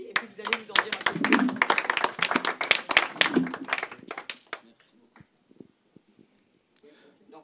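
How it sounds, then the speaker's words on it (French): Audience applause at a business launch event: a burst of many hands clapping, dense and close for about four seconds, then thinning to a few scattered claps, with a voice speaking briefly. "On vous applaudit"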